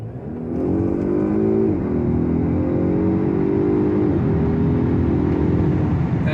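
A Polestar One car accelerating hard toward about 91 mph gives a loud, steady drive whine that rises in pitch, dips briefly, then climbs again under constant cabin roar.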